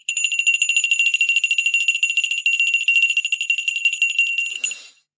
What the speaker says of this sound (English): We got to ring the bell for 118.